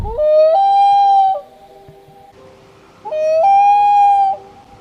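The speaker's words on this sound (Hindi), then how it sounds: "नंबर 2, लून।" A common loon gives two long wailing calls, each rising then holding a steady pure tone with a slight waver, separated by a pause; loud and clear, with no other voices.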